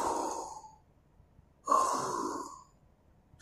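A teacher imitates the snoring of someone who has dozed off, giving two long, breathy snore-like rasps separated by a pause, close and fairly loud with no other talk.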